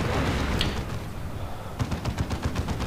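Lascannon fire in a tabletop-style strategy video game bombarding a Falcon vehicle: a dense burst of blasts followed by a quick rhythmic series of punchy shots, loud and close with no talk.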